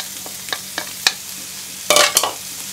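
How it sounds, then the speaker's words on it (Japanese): Onion, shiitake mushrooms and bamboo shoots stir-fried in a pan for Chinese-style sweet and sour pork, with spatula scrapes and sizzling bursts that start light and evenly spaced, then swell into a louder cluster near the end. "炒めます。"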